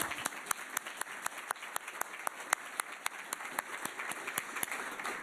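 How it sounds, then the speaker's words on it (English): A university presentation audience gives a round of applause: sparse, distinct claps in a steady rhythm over a thin wash of clapping, moderately quiet and heard alone. "Number 17 was the Ohio State University. Round of applause."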